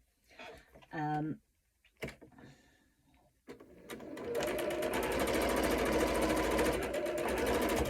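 A sewing machine joins three pieces of bunting fabric, running in a steady, loud, continuous stitching burst for the last half. Before that come a few short starts and a brief voice.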